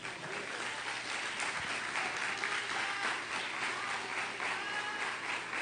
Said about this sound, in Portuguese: Aplauda o Senhor aí.